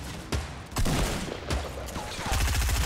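Gunfire in the video game Fortnite, several bursts of rapid shots and single cracks scattered over a few seconds at moderate loudness.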